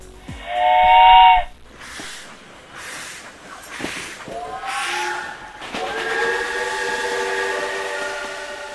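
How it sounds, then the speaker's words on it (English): Khyber Safari steam train in the mountains of the Khyber Pass, sounding a loud whistle blast near the start, then further long whistle tones with rail noise underneath. "the Khyber Safari train runs through the rugged mountains of the Khyber Pass"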